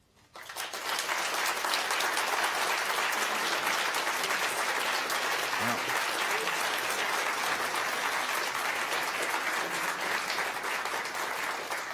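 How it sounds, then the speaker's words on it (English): Sustained applause from the audience at a live public talk on space robotics, a thick, even wash of many hands clapping that starts abruptly and holds steady for the whole stretch. "receive a round of applause along with me"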